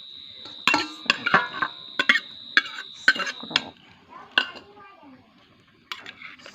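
Instant noodle salad (yam Mama with chicken feet) being mixed in a bowl, with a run of close clinks and scrapes of a utensil against the bowl in uneven bursts, then a pause and a few final knocks.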